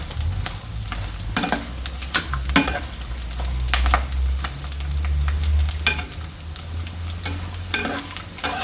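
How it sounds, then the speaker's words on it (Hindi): Gond, an edible gum, frying and puffing up in hot oil, giving a steady sizzle with intermittent crackles and stirring scrapes, loud and close throughout with no talking. "अब फ्राई हुई ना तो कैसे पापड़ की तरह फूल गई है"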